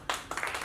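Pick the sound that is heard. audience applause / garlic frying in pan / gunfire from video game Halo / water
audience applause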